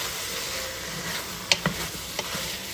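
Shrimp cooking in a pan with tomato, stirred as it cooks, giving a steady close sizzle with a few sharp utensil scrapes and taps against the pan.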